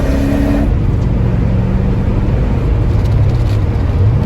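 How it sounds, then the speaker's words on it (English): A 1982 Porsche 928 accelerates hard through the gears, with a loud, continuous engine roar heard close up and a shift in tone early on. No one speaks. "First gear, second gear, third gear, fourth gear,"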